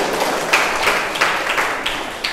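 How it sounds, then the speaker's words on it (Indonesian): Brief audience applause at a literacy talk at Abulyatama University in Aceh: dense, moderately loud clapping from a room of listeners, with a few sharper individual claps standing out over the steady patter. "Tepuk tangan."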